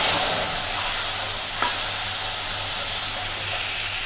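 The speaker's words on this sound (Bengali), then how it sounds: "এবার ওই মশলাটা রেখেছিলাম আমি বাটিতে করে, ওটা দিয়ে দিলাম।" Spice paste for a paneer kofta curry sizzles steadily in a hot pan, a continuous bright hiss with a brief stir scrape partway through, close and alone without talk.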